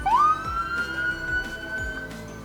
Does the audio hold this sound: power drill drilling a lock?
no